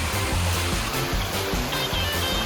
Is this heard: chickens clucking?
no